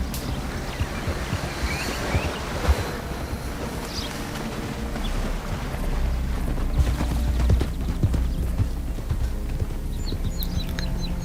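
Horse hooves clip-clop on ground in the Red Dead Redemption II video game, a steady, moderate walking rhythm under ambient outdoor game sounds and faint background noise.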